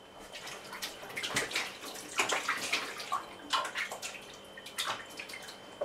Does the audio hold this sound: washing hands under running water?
yes